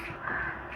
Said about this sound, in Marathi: इथे अजूनही संध्याकाळ झाली आहे तरी पक्ष्यांचा आवाज येतो